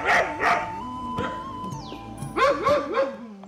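Several dogs of various breeds guarding a cattle farm bark in short bursts near and loud, with whining and yips between the barks.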